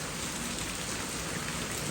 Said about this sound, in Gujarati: બહુ જાદો વરસાદ આવે છે